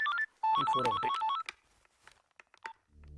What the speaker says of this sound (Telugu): చాలా సేపటి నుంచి ఫోన్ రింగ్ అవుతుంది, పికప్ చేయట్లేదు.